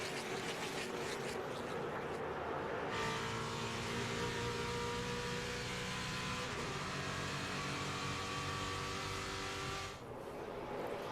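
NASCAR stock cars race at Daytona International Speedway, a loud sustained engine roar that swells as a pack passes close by, then drops off sharply near the end; no voices.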